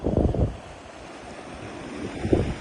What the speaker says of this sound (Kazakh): Су кетіп жатыр қатты. Канал жарылып кетті.